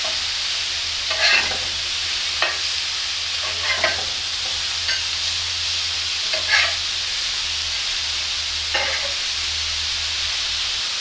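Burger patties sizzle steadily in a frying pan, a loud continuous fry with occasional stirring or scraping clicks and small pops, no voices.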